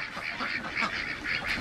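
Several ducks quack in a continuous, overlapping chatter close by, a lively flock calling without pause.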